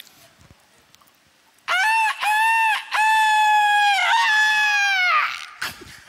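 After a quiet start, someone loudly mimics a rooster crowing, a long strained cock-a-doodle-doo in several connected bursts, up close and alone.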